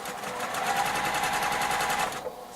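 A sewing machine stitches small fabric squares in a fast, continuous mechanical rattle up close, stopping abruptly near the end with no talk.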